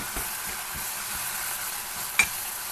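A masala of onion, tomato, turmeric and ginger-garlic paste frying in a pan, with a steady close sizzle and soft rhythmic stirring scrapes, plus one sharper clink of the spoon near the end.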